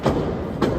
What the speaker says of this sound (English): that was just a forearm blow right between the eyes right there